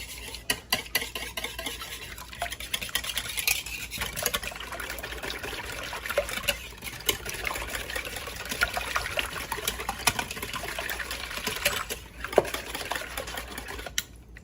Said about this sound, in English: I'm gonna go ahead and whisk this up.